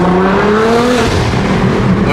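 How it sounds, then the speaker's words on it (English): A Nissan GTR under way with its engine droning loud and steady and a rising whine from the turbo, heard from inside the car without talk. "Can you guys hear the turbo noises?"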